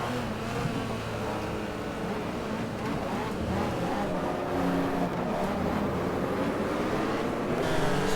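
Race car engines in the GT Legends video game, a continuous layered engine roar with several cars revving and shifting close together, steady and fairly loud, with a voice talking over it.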